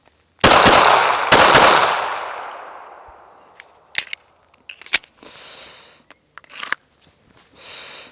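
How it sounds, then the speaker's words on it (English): A Smith & Wesson Performance Center Bodyguard 2.0 compact pistol fires two sharp, loud shots about a second apart, each with a long ringing decay, followed by scattered small clicks and rustles. "we'll put some rounds through it and see what's up"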